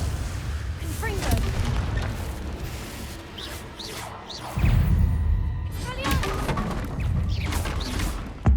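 A Confringo blasting spell explodes in the Hogwarts Legacy video game, a loud booming crash amid dense game effects and a voice, with a second heavy burst landing midway through.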